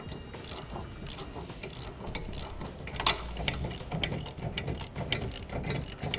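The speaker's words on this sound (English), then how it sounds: "Now we're going to take the nylon lock bolts and run those down on." A hand ratchet clicks rapidly in steady bursts while nylon lock bolts are run down on a Curt TruTrack weight distribution hitch with sway control, close and clear with no talking.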